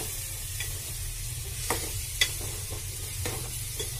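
Tomatoes are added to pumpkin curry frying in a pan, a low steady sizzle with occasional stirring scrapes and one sharper clink, close by, with a low hum underneath.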